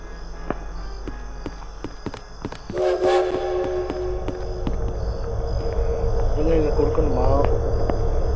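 Train in a horror video game, a continuous rumbling run with a burst of horn or whistle early on and a long rising mechanical drone, with sharp clicks throughout.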